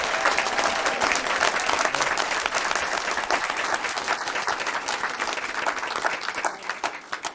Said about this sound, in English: So let's give one more round of applause for our winning BC Charles archery team.